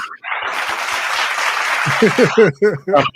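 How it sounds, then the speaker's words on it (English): A burst of clapping from a crowd fills the first couple of seconds, then fades as a voice starts talking over the tail end. "Round of applause."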